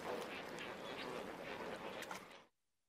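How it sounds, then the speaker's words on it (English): A large flock of flamingos gathered on a lake, a dense continuous chorus of overlapping honking and quacking calls that cuts off abruptly near the end. "A lot of birds in one place at the same time."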